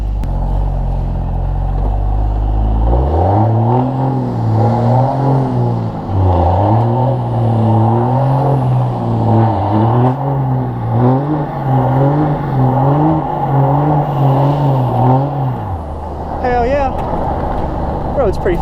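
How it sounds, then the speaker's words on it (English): A pickup truck's engine revs hard, without four-wheel drive, as it climbs a snowy driveway, the pitch rising and dipping repeatedly in strained surges for over ten seconds before settling back to idle, with a voice talking over it. "I'm going to leave it out of four-wheel drive and see if we can climb up out of the driveway."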